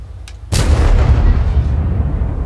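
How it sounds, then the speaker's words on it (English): A 122mm tank gun fires in World of Tanks with a single sudden heavy boom, followed by a long rumbling low roar that slowly fades. "Let's listen to this big 122mm gun."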